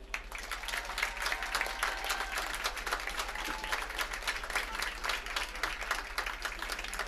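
A crowd at a high school football homecoming ceremony claps for the homecoming court, sustained scattered applause heard from a distance in an open stadium, with a low hum underneath.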